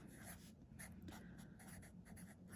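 Pen writing on paper, very faint and close, with quick repeated scratching strokes and short pauses, alone without any talk.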